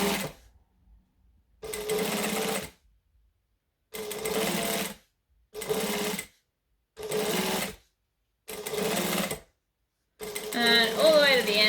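A sewing machine stitches a shoe vamp seam in six or seven rapid bursts, each about a second long, separated by short quiet pauses, close and clear.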